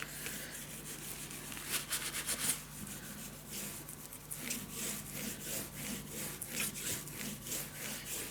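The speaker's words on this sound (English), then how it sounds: "Burnish this down while your glue is wet." Glued paper edge on a handmade scrapbook pop-up album burnished by hand, a soft repeated rubbing and scraping in short strokes, faint and close, with no talk.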